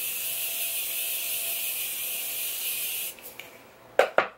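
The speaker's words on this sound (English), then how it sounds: "Let's give it a good spray." Makeup setting spray hissing in one long, steady spritz for about three seconds, then stopping, followed by a few light handling clicks and two sharp taps close by.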